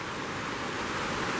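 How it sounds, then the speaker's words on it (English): Roaring water at the top of a large waterfall, a steady dense rush of white noise filling the whole clip with no pauses, loud and close. "We're on top of the waterfall now."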